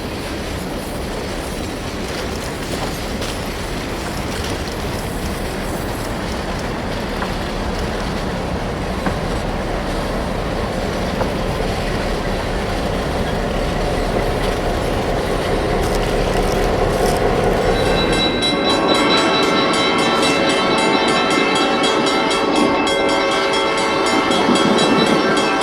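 A Southern Pacific freight train rumbles past at Port Chicago with a steady clatter of rolling cars, then a loud, sustained horn blast rises over the noise for the last several seconds.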